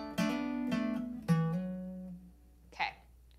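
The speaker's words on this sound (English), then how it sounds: "Now here's where the first cool riff comes in." Guitar plucks out the opening riff of a song, a few sharp attacked notes with low sustained tones ringing underneath, fading before a faint extra pluck near the end.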